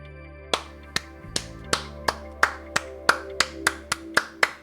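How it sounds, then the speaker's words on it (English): One person claps hands in a steady, evenly spaced rhythm, a dozen sharp close claps over a low electronic background hum. "it doesn't sound like I'm clapping by myself"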